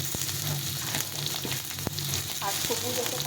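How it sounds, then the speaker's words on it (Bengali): Bengali-style mixed vegetables, including ridge gourd and pointed gourd, fry with little oil in a pan, giving a steady close sizzle with occasional sharp stirring clicks throughout. "সবগুলো একটু হালকা করে ভেজে নিতে হবে।"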